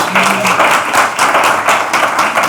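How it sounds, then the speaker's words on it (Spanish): Audience applause for Antonella at a panel discussion, dense steady clapping from a crowd, moderately loud and continuous throughout with no voices. "comencemos lo que nos queda con un aplauso a Antonella"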